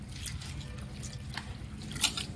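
Soaked grains being rinsed by hand in water in a home kitchen, with soft wet swishing, squelching and small drips throughout, quiet and close.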